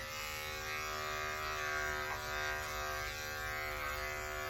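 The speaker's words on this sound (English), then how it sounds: "I'm going to shave the chin a little more, parts on her face" Electric dog clippers shaving a cocker spaniel's neck, a steady close electric buzz with slight shifts in pitch as the blade moves through the fur.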